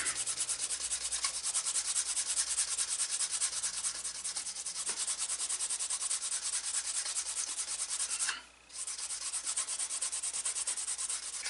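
Worn sandpaper is rubbed steadily against a dyed leather edge to burnish it, a continuous close rasping scrub that pauses briefly near the end before resuming.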